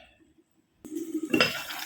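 A short quiet pause, then a metal lid clinks and settles onto a pot of chicken and liver adobo with a bright rattle.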